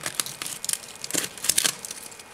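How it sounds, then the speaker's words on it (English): Sharp scissors puncture and snip through a spiny sea urchin shell held with tongs, giving irregular close crackling crunches and brittle cracks in quick clusters. "You start by puncturing the middle of the sea urchin"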